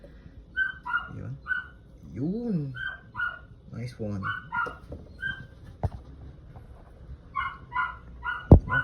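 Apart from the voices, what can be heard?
dog barking and whimpering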